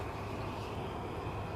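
An airplane at Kelowna airport in British Columbia gives a steady, moderately loud engine drone with a constant low hum, heard from a distance without any talking.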